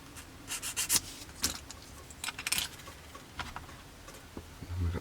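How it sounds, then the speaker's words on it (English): Small plastic model kit parts are lightly worked with a Flory sanding stick, giving faint, brief scratchy strokes in scattered short bursts against a quiet background. "Using a Flory model sanding stick, we're just going to give that a very light sand"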